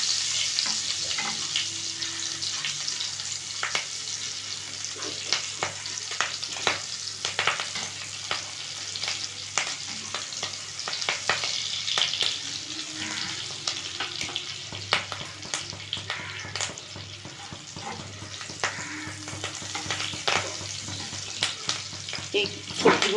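Home-grown green chillies, added with cumin to hot oil in a pan, sputter and sizzle steadily while a utensil scrapes and stirs in irregular close clicks and taps throughout, with no voices.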